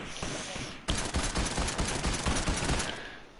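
Rapid automatic gunfire from Fortnite crackles in dense bursts, loud and close, with a brief quieter lead-in before the heavy volley.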